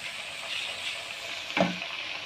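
Tomatoes added to golden fried onions in a pan for chicken tikka biryani masala, giving a soft steady sizzle close by with one brief clatter of stirring near the end.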